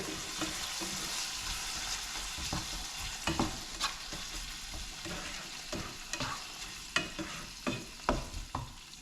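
Soft, continuous sizzling of bacon frying in a pan, with occasional scrapes and light clacks of a utensil stirring.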